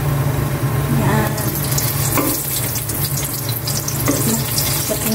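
Onions fry in a pan, a loud, steady sizzle and hiss running without pause, with occasional stirring scrapes and no voices.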